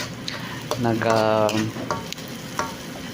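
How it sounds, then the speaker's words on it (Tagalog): Onion and green coriander sizzle and are stirred in a hot pan while a Nepali cook makes noodles, with steady frying crackle, scraping stirs and a brief spoken voice in the middle. "Nagisa siya guys ng onion"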